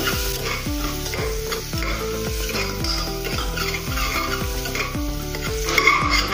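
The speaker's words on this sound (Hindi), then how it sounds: "कलर आने तक इसको अभी तलेंगे प्याज को" Onions sizzle steadily in hot oil in a pan while being stirred repeatedly, a continuous close frying crackle with rhythmic scraping strokes and no talk.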